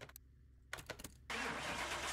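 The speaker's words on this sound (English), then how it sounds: "Let's get this one started up," A Ford Mustang in Car Mechanic Simulator cranks with a few starter bursts, then catches and settles into a steady, full engine rumble that holds to the end.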